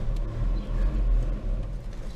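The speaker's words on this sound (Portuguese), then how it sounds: "O barulho do carro muda." A car engine idles steadily up close, a low continuous rumble with slight fluctuations and no voices.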